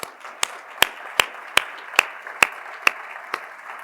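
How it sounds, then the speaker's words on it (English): Applause from an audience of about a hundred at an evening lecture on Art Deco lettering: sharp, evenly spaced claps roughly every half second stand out over a soft, steady bed of clapping, at moderate level, with no talk. "please join me in applause for the Guardian Angels"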